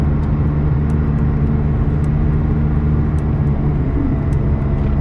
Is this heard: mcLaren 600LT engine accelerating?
yes